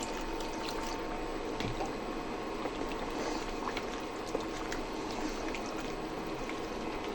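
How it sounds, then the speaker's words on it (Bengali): Water trickling into duck curry in a pot, a soft steady liquid hiss with faint drips, continuous and close, no voices. "অল্প পরিমাণে জল দিয়ে দিলাম"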